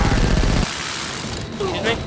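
A chain gun firing in the game Foreign Legion: Buckets of Blood, a dense rapid burst of shots for the first half second, then fading mechanical noise with a voice speaking over it.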